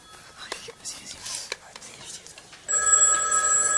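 Telephone ringing on a French TV show, a steady electronic ring with sustained tones that starts partway through and continues loudly after some quiet whispery sounds.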